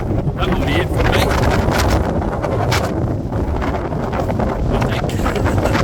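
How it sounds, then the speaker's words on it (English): Strong wind buffets the microphone on a snowy Reykjavik street, a constant loud low roar with gusty swells throughout, while a person speaks over it. "Oh my god, it's against the wind. It's so bloody strong."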